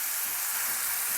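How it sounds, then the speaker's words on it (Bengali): Chicken pieces frying in a pan over medium heat for a spicy chicken curry, giving a steady, close, even sizzle throughout with no voices. "চিকেনগুলোকে হাফ সিদ্ধ হওয়া পর্যন্ত ভেজে নেবেন"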